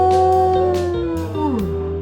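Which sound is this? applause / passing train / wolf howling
wolf howling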